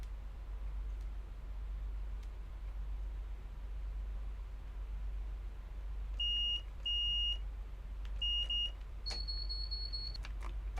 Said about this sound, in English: Wait for the beep beeps.